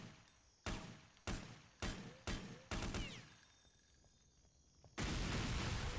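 Gunfire and flammable barrels exploding in the video game Counter-Strike: Deleted Scenes: five sharp, loud blasts about half a second apart, a quieter lull, then a sudden sustained roaring explosion.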